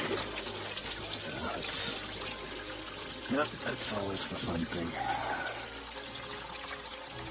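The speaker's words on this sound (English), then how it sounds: "Draining the damn coolant." Coolant drains from a BMW E36 with an M43B16 engine into a catch pan, a splashing, trickling pour under casual talk, close by with uneven bursts.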